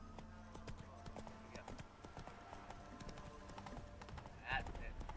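Horse hooves clip-clop in a steady rhythm in The Witcher 3: Wild Hunt, close and fairly quiet, layered over a busy game soundscape with a brief brighter accent near the end.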